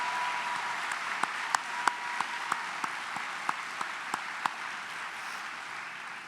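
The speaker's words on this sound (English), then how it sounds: "one more round of applause for all 12 of our outstanding 2021 Kid" Scattered, distinct hand claps ring out about ten times, roughly evenly spaced, over a steady wash of room noise at a luncheon honoring twelve Kid First Award winners.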